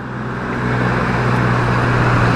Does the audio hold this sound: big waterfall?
no